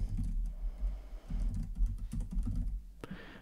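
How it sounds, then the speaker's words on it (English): Typing on a computer keyboard, a close run of quick soft key taps in a few short bursts with a brief pause, ending in a sharper keystroke. "So I'll just type in the fully qualified domain name"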